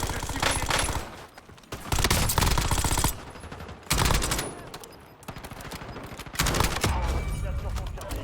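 Bursts of automatic gunfire from a Call of Duty Warzone match, loud and close, coming in several rapid volleys separated by short gaps, with in-game voice callouts mixed in.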